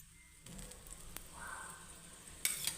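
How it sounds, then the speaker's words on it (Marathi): Soft sizzling of a sandwich frying in oil on a hot griddle until crisp, with a few light scraping and tapping sounds close by. "चांगलं तेलात खरपूस भाजलं"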